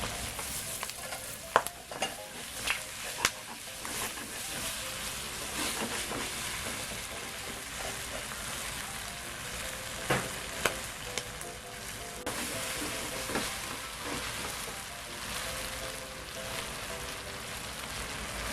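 Garlic sprouts and tofu stir-fried with Sichuan pepper in a pan, a steady close sizzle of frying with repeated scraping and stirring clatters of the spatula throughout, no talking.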